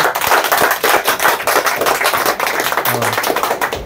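A group claps loudly in a dense, steady burst of sharp hand claps to welcome new aspirant fitters at a maritime training event. The applause runs without a break and no one speaks over it.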